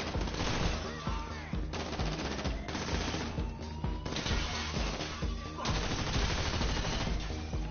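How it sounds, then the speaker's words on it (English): Dense gunfire during a casino robbery video game, rapid automatic bursts and heavy impacts hammering almost continuously at close range, loud throughout. "I'll just shoot without looking, if that's okay."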